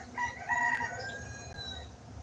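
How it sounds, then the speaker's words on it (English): A rooster crows among young chickens, its drawn-out cock-a-doodle-doo ringing near and clear for about a second, then trailing off over a soft, steady farmyard hum with no voices. "these are such pretty chickens"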